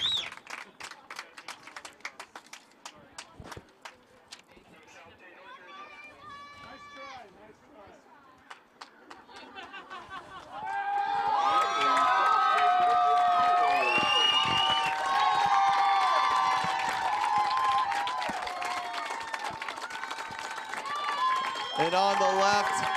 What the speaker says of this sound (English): Great crowd here supporting the ladies.